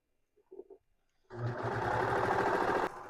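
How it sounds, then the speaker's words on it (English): A serger sewing machine stitching hoodie fabric runs in one loud, close, continuous mechanical burst after brief handling noises, then slows near the end. "line that up in your serger. We're sewing just a little bit at a time."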